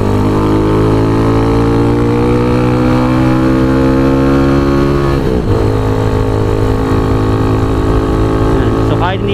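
Motorstar Xplorer Z200S motorcycle ridden on a highway, engine droning loud and close with rising and falling revs and a gear shift midway, wind rushing past.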